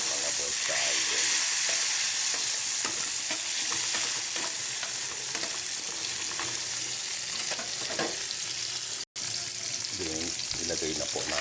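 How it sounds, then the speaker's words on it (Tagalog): Chopped tomatoes sauté and sizzle in a hot pan, with spoon scrapes and stirring strokes repeating throughout over a constant frying hiss, and a brief dropout near the end. "Dito naman, isilagay na natin yung ating kamatis para malanta"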